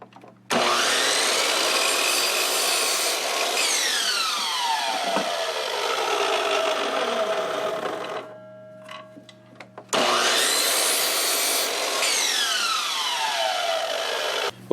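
A power saw making 22.5-degree bevel cuts in wood pieces for a folding work table: two long, loud cuts with motor whine dropping as the blade bites, separated by a brief pause with the motor spinning down and clicks, then restarting.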